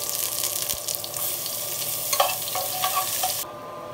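Rice frying and being stirred in oil and butter with chopped ginger for a chicken biryani, giving a steady close sizzle with scraping stir strokes that stop abruptly near the end.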